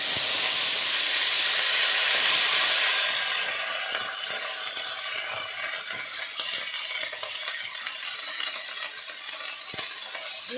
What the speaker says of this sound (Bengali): পেঁয়াজ কুচি আর ভালো ভালো করে এটাকে লাল লাল করে ভেজে উঠাবো